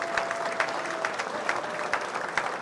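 Sustained crowd applause fills the arena at a 4-H county fair swine show, steady dense clapping with a few sharper claps standing out, moderately close and continuous throughout.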